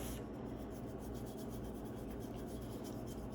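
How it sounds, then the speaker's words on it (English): A cloth rubs paint back off a dollar store decor piece, giving a steady, close, continuous soft scrubbing with no speech. "I'm going to quickly rub it back off"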